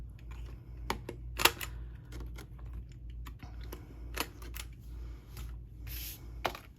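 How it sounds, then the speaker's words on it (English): A 1/4 inch corner rounder punch working around the corners of a paper cover, giving a series of sharp, separate clicks and crunches at irregular intervals over a low steady room hum. "I'm just going to go through and round all of my corners."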